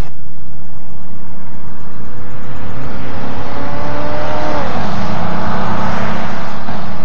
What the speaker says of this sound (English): Now watch as they both accelerate at full throttle down this quarter-mile drag strip.